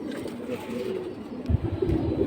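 Pigeons coo at a busy pigeon market, a low, throaty burbling that repeats in soft pulses, with a steady murmur of crowd and background noise underneath.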